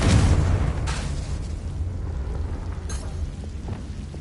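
Confringo fire spell explosion in Hogwarts Legacy, a loud booming blast at the start that decays into a rumbling, crackling tail, with a couple of softer secondary bursts after.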